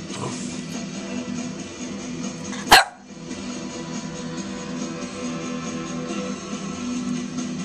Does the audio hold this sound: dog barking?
yes